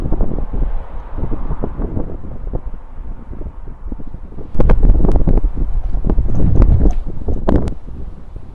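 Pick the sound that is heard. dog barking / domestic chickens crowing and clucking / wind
wind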